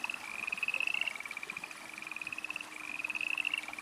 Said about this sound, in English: I've never heard the frogs